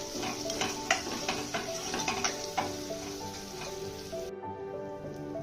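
Ground pepper powder sizzles and hisses steadily in hot tempering oil for rasam while being stirred, with occasional scraping clinks of the spoon against the pan, continuous and close, then cutting off near the end.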